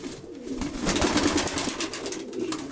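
Pigeons coo in a low, rolling murmur, several birds overlapping steadily throughout at close range with no voices.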